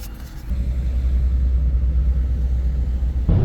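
Steady low engine rumble heard from inside a moving car in hot weather, loud and continuous with a brief shift at the start and end, with no talk.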